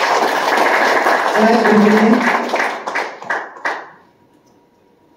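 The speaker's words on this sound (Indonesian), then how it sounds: "Boleh tepuk tangan ya." An audience at a health seminar on antioxidants claps in a dense burst that thins into a few scattered last claps, then the room falls quiet; a speaker talks briefly during the clapping.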